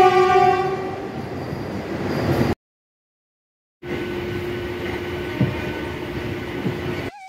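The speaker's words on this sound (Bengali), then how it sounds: "2 নম্বর প্ল্যাটফর্ম থেকে আসছে ট্রেন নাম্বার 20871 হাওড়া থেকে রোডকেল্লা বন্দে ভারত এক্সপ্রেস।" The Howrah to Rourkela Vande Bharat Express arrives at platform 2, a close horn blast followed after a short gap by the steady roar and rumble of the passing train.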